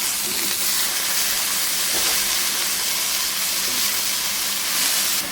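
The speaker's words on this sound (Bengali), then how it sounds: "লাল শাক ছেড়ে দিচ্ছি" Red amaranth greens dropped into hot oil with browned onion produce a loud, steady hiss and sizzle lasting throughout, close to the pan.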